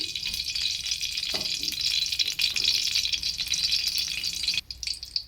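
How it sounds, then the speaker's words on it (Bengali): A dried red chilli sizzles in hot oil for tempering, giving a steady, close crackling fry with a few light stirring clatters. "তেলের সঙ্গে একটা লঙ্কা ফোড়ন দিয়েছি"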